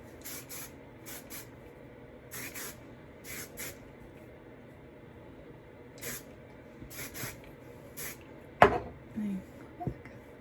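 Short bursts of hairspray being sprayed onto lifted hair, several quick hissing puffs spread irregularly over quiet room tone, with a brief knock near the end.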